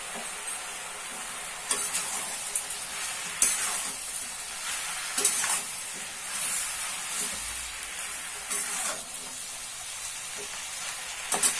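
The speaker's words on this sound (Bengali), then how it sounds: "এবার এগুলোকে ভালো করে মিশিয়ে নেব।" Pumpkin leaf dish with poppy seed being stirred in a hot pan, soft sizzling and hiss under repeated scraping strokes of a spoon, close and fairly quiet.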